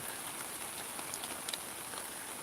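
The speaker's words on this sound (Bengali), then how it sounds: "এই দেখো গ্রামের বৃষ্টি" Village rain falls steadily on surfaces, a dense, even patter with a few sharper drops standing out, heard alone at a moderate distance.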